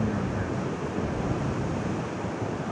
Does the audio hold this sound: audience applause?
no